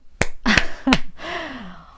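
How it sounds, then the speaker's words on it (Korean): Three sharp, separate hand claps from a tarot reader ring out close and evenly spaced, followed by a short voiced sound trailing off. "박수."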